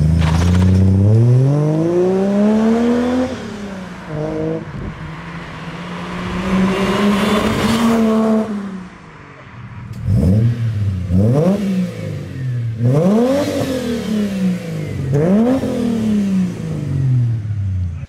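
Ford AU Falcon with Pacemaker 4480 extractors revving hard, the engine note climbing and falling through long sweeps, then a run of short sharp blips near the end, loud and close with no talk.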